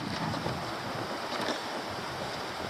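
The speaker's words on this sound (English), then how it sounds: "Even though it's windy" Steady wind sweeps across an island campsite on a lake in Quetico, a continuous broadband rush with slight gusty swells and no speech.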